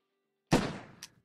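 A single sharp gunshot fires in the Hand Simulator video game, an abrupt loud crack with a decaying tail and a brief faint echo about half a second later, following silence.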